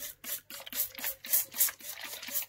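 Repeated short hissing bursts of a spray bottle misting plants in a gecko terrarium, about eight quick pumps in an uneven rhythm, close and fairly loud with no talking.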